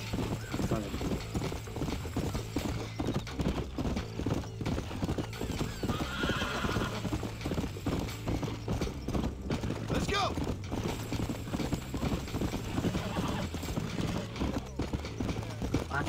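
American Trotter horse in Red Dead Redemption, steady rhythmic clip-clop of hooves throughout with a neigh partway through, over a constant low rumble, with a voice talking along.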